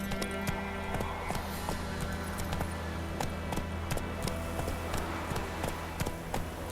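A horse's hooves gallop in a steady rapid clip-clop through The Witcher 3: Wild Hunt, with regular close hoofbeats over a low background music bed.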